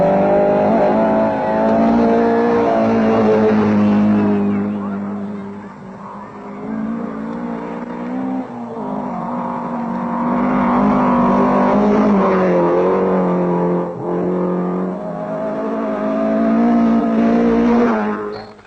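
Rally car engine droning and revving steadily on a Safari Rally stage in Kenya, a continuous loud motor note with rising and falling pitch throughout, no talk.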